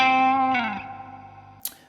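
Distorted electric guitar playing a short blues lick in a broken triplet rhythm, a few close notes with a bend sliding downward, then ringing out and decaying, with a brief pick scrape near the end.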